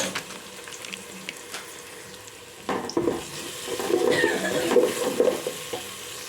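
Onion and tomato frying in a pan with turmeric powder for Gowda-style mutton biryani, a steady low sizzle that swells louder and busier midway as ingredients hit the hot pan and get stirred.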